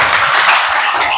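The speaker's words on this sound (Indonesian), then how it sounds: "Tepuk tangan dulu." Students clapping in a classroom: a short, bright burst of many hands applauding together, close and fairly loud, over in about a second.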